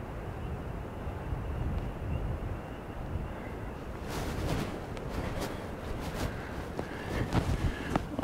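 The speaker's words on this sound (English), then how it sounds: "It's definitely windy out here, along with the rain." Steady outdoor wind rushes across the microphone, with rain pattering and sharp scattered drops in the second half.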